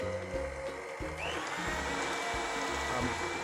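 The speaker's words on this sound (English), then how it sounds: "But when you have a stand mixer like this, first beat it a little bit and then add the sugar." A stand mixer beats BlueBand margarine to soften it for a fruit cake batter. It gives a loud, steady motor whine with rhythmic low thumping pulses throughout, and no voices.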